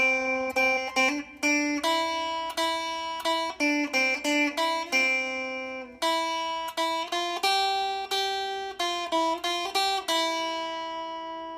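The Itsy Bitsy Spider melody is plucked note by note on guitar, each note ringing briefly before the next in a steady, simple rhythm, clear and close, with no voices.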